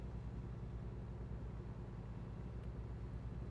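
Steady engine drone of a Peterbilt truck in American Truck Simulator, a continuous low rumble at even loudness for the whole stretch, with no distinct pass-by peak.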